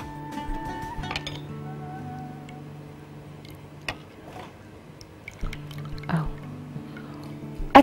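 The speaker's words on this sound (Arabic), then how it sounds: "هرفع دلوقتي بمعلقه كده اوريكم القوام بتاع الصوص بيبقى عامل ازاي" Tahini sauce drips from a spoon as a few soft, scattered drops and light clinks fall in a quiet kitchen, with a faint background hum underneath.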